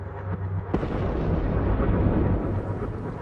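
Explosions from a bombing campaign in Yemen using British and American weaponry: a sudden sharp blast erupts after a low rumble, then rolls into a long, heavy, sustained roar.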